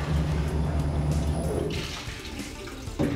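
Water rushes steadily through a Swirl Freeze ice cream machine during a few quick rinses, a loud close gushing flow that shifts partway through and continues without talk.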